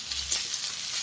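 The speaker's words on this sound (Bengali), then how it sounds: "তো আমি এই সময় রসুন কিছু দিয়ে দিলাম, কিছু পরিমাণে দিয়ে দিলাম। এটাও একসাথে ভেজে নেব।" Onion and garlic fry together in a pan with a loud, dense, continuous sizzle that holds steady throughout the short stretch.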